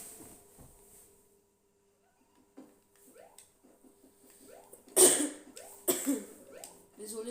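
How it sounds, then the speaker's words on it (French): Several coughs and throat-clearing bursts, close and fairly loud, spaced out over quiet background with faint Paper Mario: The Origami King game sounds. "Désolé si vous m'entendez tousser."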